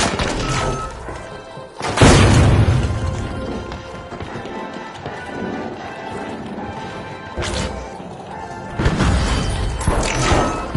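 Frag grenade blasts in a video game: a loud crashing explosion at about two seconds, then two more bursts later, set against a busy background of game noise.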